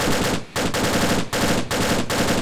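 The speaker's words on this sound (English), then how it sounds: "I'll demonstrate the different sounds. This is the M240." Three long bursts of rapid automatic gunfire from an M240 machine gun in the video game Arma II, loud and close, separated by short pauses, with a dense crackling texture.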